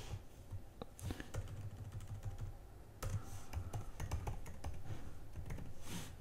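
Quick, irregular bursts of typing on a computer keyboard, with clustered clicks and brief pauses against a quiet room background, close to the microphone and with no talking.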